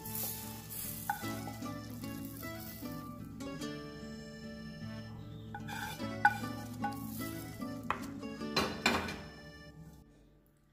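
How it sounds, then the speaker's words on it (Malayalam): Green gram curry with ground coconut being stirred in a pot, an ongoing sizzle with clinks and scrapes of the spoon against metal, close and steady with no talk. "ഈ കറിയിലേക്ക് ഇത് ഒഴിച്ചു കൊടുത്ത് നല്ലപോലെ മിക്സ് ചെയ്യാം."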